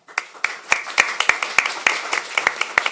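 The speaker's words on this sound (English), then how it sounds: "I wasn't expecting applause so early in events" Audience at a live panel event on fraud and elder exploitation applauds a police divisional commander's introduction, with sharp, distinct claps repeating in a loose steady rhythm, near and moderately loud, with no voices over them.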